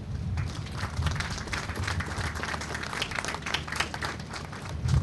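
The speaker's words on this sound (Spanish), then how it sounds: "Un aplauso para nosotros." A crowd applauds steadily, a dense patter of many hands clapping throughout, moderately loud in a reverberant hall.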